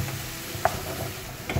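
Sliced zucchini sizzle steadily in a hot frying pan while a utensil stirs them, giving a couple of sharp scraping knocks over the continuous frying hiss, close and alone.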